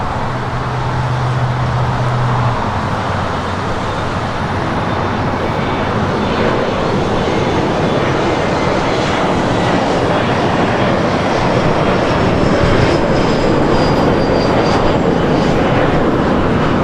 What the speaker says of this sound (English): we see the Lufthansa A350 now making her way over to 24 left.